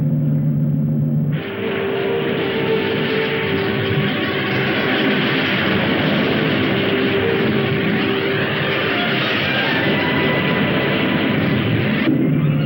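Rocket engines roar in a 1960 science-fiction film as a loud, steady, broadband rumble that holds for about eleven seconds and cuts off abruptly at the end.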